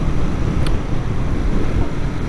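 Strong wind buffeting the microphone while riding a Royal Enfield Interceptor 650 motorcycle on a very windy day, a loud continuous low roar with no let-up.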